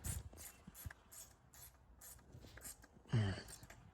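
Quiet, rapid clicking of a ratchet tightening the outside brake bolt on a Honda NSR250 MC21 motorcycle, in short bursts of close-up mechanical ticks, ending in a slightly louder turn.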